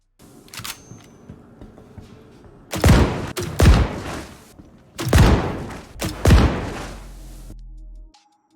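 Grenade launcher fire in Star Citizen: four heavy, booming thuds in two close pairs, loud and near, each with a short rumbling tail, set against quiet game ambience.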